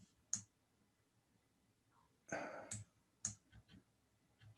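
Computer mouse clicks at a desk: a few sharp, isolated clicks spaced out over a few seconds, quiet and close, with faint brief noises between them.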